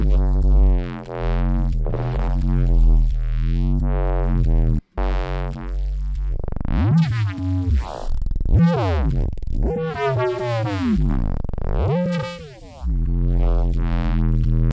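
Synthesized neurobass patch built in Phase Plant with distortion, filters and slow random pitch drift: loud, buzzy sustained bass tones that swoop and wobble in pitch, broken by brief gaps and sharp filter sweeps.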